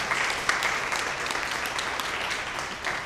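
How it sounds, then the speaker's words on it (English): A church congregation claps for two volunteers who run the slides, a fairly quiet, steady patter of hands with scattered sharper claps, heard from a distance. "I don't know if we can all clap for Mr. Dan and Mr. Casey"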